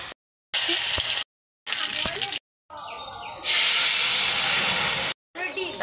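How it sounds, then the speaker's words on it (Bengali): Papad (poppadoms) frying in hot oil give a loud crackling hiss that comes in separate bursts with silent gaps, then swells into a sustained sizzle near the end. "কিছু পাঁপড় ভেজে নিচ্ছি"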